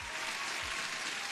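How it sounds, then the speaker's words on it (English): Steady, dense applause from a crowd, many hands clapping continuously at an even level with no pauses. "Huge applause."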